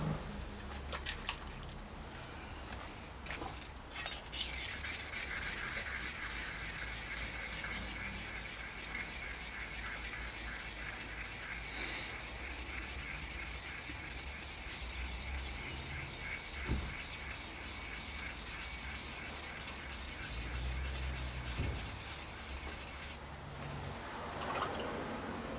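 Steady hand sanding of bicycle crank arms, a Suntour XC Pro / Schwinn Series 90 PDG set, using 2500 grit paper, a continuous close wet rubbing hiss that runs almost unbroken, with no talking.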